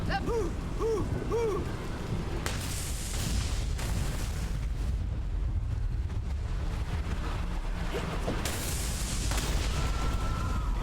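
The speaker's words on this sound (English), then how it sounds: "The lightning is way too loud." Storm weather in the video game Conan Exiles: constant heavy rain and wind noise with loud cracks of thunder bursting out at intervals, a brief voice-like tone near the start.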